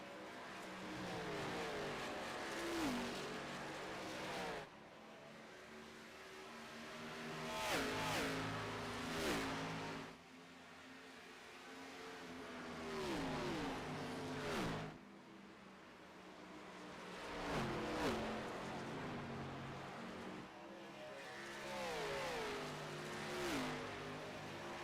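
Race cars in the iRacing game lap the Homestead track in an Xfinity Series race, engines roaring and rising in repeated passes every few seconds, loud and steady with no talk.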